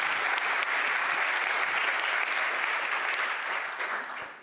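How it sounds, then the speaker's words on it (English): A conference audience in Berlin breaks into dense, sustained applause for two speakers' presentations, loud and even across the room, tapering off near the end. "give them a big applause for their presentations"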